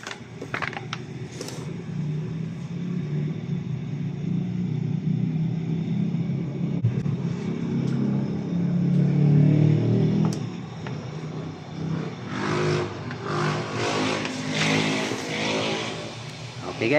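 A motorcycle engine runs steadily after stator and fuse bypass repair, with a low continuous rumble that swells into revving partway through, heard up close.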